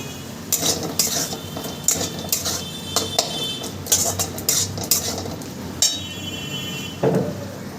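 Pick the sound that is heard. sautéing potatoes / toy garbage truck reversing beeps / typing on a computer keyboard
sautéing potatoes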